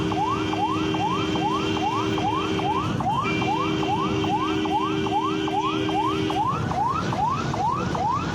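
An ambulance siren on a road between Malappuram and Kozhikode, with bikers riding ahead of it, wails in steady, rapid repeating rising sweeps for the whole stretch, loud and continuous over rumbling traffic noise.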